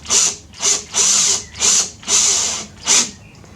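A power drill undoes a bolt in six short bursts of high whirring, each stopping briefly before the next, close and loud with no talking.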